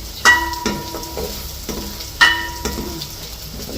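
Fenugreek seeds frying in a hot pan, with a steady close sizzle and crackle broken by stirring scrapes and two sharp clanks of a utensil against the pan.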